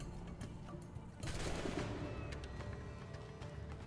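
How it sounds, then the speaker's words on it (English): Gunfire breaks out in the pirate-era video game Assassin's Creed 4 Black Flag, a burst of overlapping shots that swells abruptly about a third of the way in and carries on as a dense, rattling volley. "What's all these gunshots going off?"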